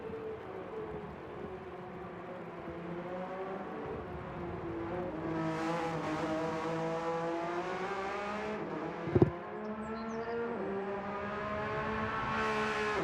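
A Porsche Cup race car in Golf livery works through the turn 1 and turn 2 complex, its engine note climbing and falling with gear changes at close range, with one sharp bang partway through.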